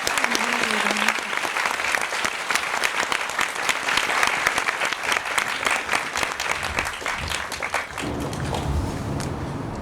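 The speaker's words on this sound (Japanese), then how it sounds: "最後に大きな拍手で終了したいと思います。" A lecture audience in a hall breaks into sustained, dense applause at the end of a talk on Tokyo's culture and spirit. The clapping stays loud and even for several seconds, then thins toward the end.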